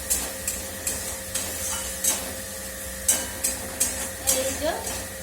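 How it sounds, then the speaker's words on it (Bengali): A spice mix fries in a pan, with a soft steady sizzle broken by repeated sharp scraping strokes of a spoon stirring against the metal, heard close. "এটা ভেজে দেবো।"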